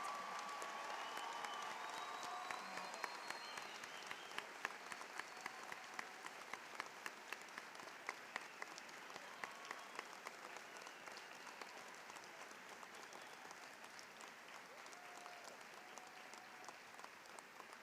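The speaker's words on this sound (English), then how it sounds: "Please join me in applauding their accomplishments" Sustained audience applause at a college commencement ceremony fills the room, many hands clapping in a steady roar that slowly thins and softens toward the end.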